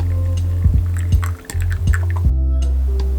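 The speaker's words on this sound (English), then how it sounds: "Then I fill the bottom chamber of the moka pot with off-boiled water." Off-boiled water poured into the bottom chamber of a moka pot, a short close gurgling trickle with faint drips and a light metallic clink, over a steady low hum, with no talking.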